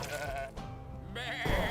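Sheep bleating in the video game Across the Obelisk: a short, close cartoonish bleat with wavering harmonics, set against game music and effects, with no talk.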